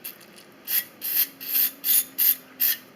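Headlight screws from a 1989 Corvette Roadster, soaked in brake cleaner, get wiped down with six or seven brisk rubbing strokes in an even rhythm. Each stroke is a close, crisp rasp over a faint steady hum, with no talking.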